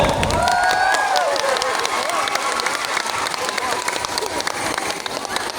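An audience applauds a visiting team at a barangay feeding program and school supplies distribution, loud, dense clapping and crowd noise with voices and a whistle-like tone rising over it.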